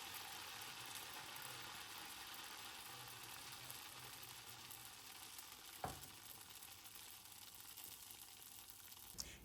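Mutta pathiri, a Malabar egg-and-rice-flour flatbread, sizzles and fries steadily in hot oil, a continuous crackling hiss with a couple of brief clinks from turning it.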